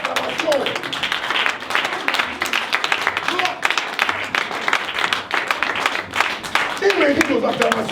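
Congregation applause and cheering at a French-language church service: dense, continuous clapping mixed with crowd voices and shouts, loud and close throughout, with a voice calling out over it.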